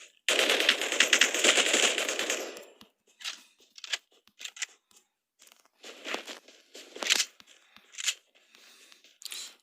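Gunfire from the battle royale video game Omega Legends: a sustained automatic burst of nearly three seconds, then a series of short, sharp bursts and single shots, loud and close with no talk.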